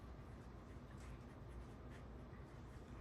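A pen scratches softly and steadily across a plant label stake for winter-sown seeds, faint and close with no talking.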